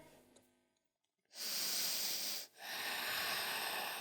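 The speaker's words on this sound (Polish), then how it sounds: "Zostajemy tutaj jeszcze na dwa oddechy." Breathing during a morning yoga pose: after a brief quiet, a long, loud, close airy exhale rushes out, pauses for a moment, then continues as a second sustained breath with no talking.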